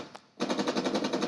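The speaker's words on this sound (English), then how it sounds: "The Gatling cannons are very effective at shredding through shields" A Gatling cannon in the Space Engineers video game opens fire after a brief quiet moment, a rapid, steady stream of loud, evenly spaced shots forming a continuous mechanical burst, close up with no voices.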